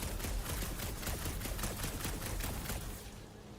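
Rapid bursts of gunfire aimed at a gunked-up reactor in the video game Guardians of the Galaxy, a dense run of sharp shots lasting about three seconds before tapering off, with no talking.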